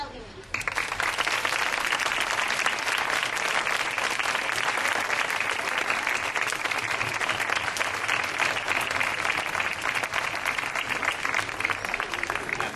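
Sustained loud applause from a large crowd at a book presentation, dense and even clapping that continues without a break for over ten seconds.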